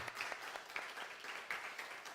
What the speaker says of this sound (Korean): 우리 감사 박수 하겠습니다